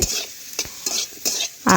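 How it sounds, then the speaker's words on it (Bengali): Cauliflower pieces frying in a pan for a home-cooked Saraswati Puja meal, with a steady sizzle broken by repeated scraping stirs of a utensil, close and fairly loud, and no talking. "দেখুন এখানে ফুলকপির ভাজা হচ্ছে"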